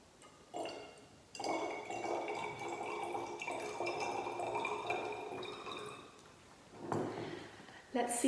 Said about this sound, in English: For the final bottle, we'll be on wanting to add the most water.